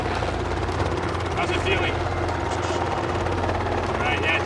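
A helicopter flies at a skateboarding compound, its steady low rotor drone and engine whine running continuously throughout, with a voice talking briefly over it.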